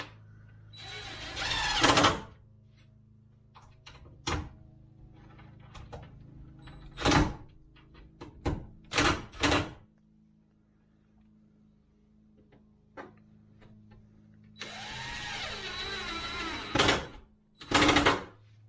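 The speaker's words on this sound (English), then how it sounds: "just start shooting some screws around wherever you think" Power driver shooting screws into wood inside a house, heard as several short bursts of whirring and sharp impacts spaced apart, with quieter handling noises between and a longer buzzing run near the end, close and fairly loud.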